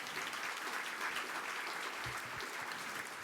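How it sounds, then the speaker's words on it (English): An event audience gives a sustained round of applause at a business blueprint event, a dense, even wash of clapping with no talk over it. "Can we give them a huge round of applause?"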